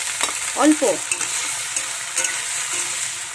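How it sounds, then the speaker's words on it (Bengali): Onions lightly frying in a pan for an egg dish give a steady close sizzle with stirring scrapes, and a brief spoken word comes near the start. "পেঁয়াজটা হালকা ভাজা হয়ে গেছে একটু"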